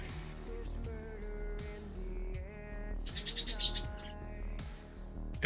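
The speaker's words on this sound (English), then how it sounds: "you can hear the birdies in the background" Pet birds chirp and tweet in a room, quick bright calls repeating in bursts over a steady low musical background, fairly faint and continuous with no talking.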